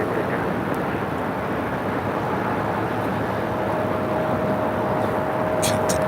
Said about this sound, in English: Good to see this A330 with Moss coming in from Felipe Angeles Airport there in Mexico City.